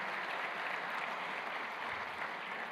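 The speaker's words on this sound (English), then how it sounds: "So would you just join me in giving him a round of applause for African leader?" Audience at the AFS Forum 2024 applauding an African leader, a steady dense wash of clapping that fills the whole stretch without pause, moderately loud and with no talk over it.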